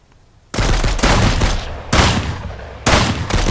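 Gunfire in the video game Mist Survival: three loud, sustained bursts of rapid shots, each cutting in abruptly after a quiet start, with no talking over them.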